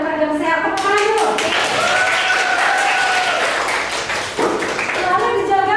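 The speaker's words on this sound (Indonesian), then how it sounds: "Tepuk tangan dulu." A class of schoolchildren claps in quick rhythmic bursts for several seconds, close and loud, with voices chanting along under the clapping.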